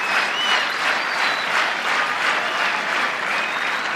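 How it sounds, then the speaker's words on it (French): Spectators at a Roland Garros tennis match in 1993 give sustained, even applause, a dense wash of many clapping hands heard from a distance with no pauses. "Il l'est encore par les applaudissements du public."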